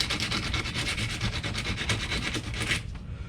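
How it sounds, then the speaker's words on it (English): A soldering iron tip being scratched against sandpaper produces a steady, loud, close gritty rubbing of rapid back-and-forth strokes that stops abruptly near the end. "so I'm just going to scratch it a bit on the sandpaper"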